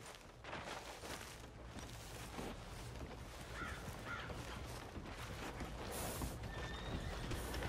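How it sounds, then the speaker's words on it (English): In a Red Dead Redemption 2 game scene a horse neighs faintly among soft hoof clops and crow caws, all low in level over a steady outdoor ambient bed. "Are you gonna mount that new horse of yours or not?"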